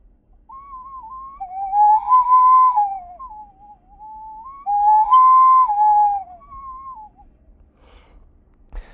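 An ancestral Pumapungo ceramic whistle bottle with a resonance chamber sounds two long wavering tones, each sliding and warbling, separated by a short pause, clear and alone.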